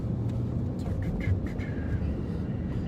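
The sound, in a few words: street traffic, cars driving by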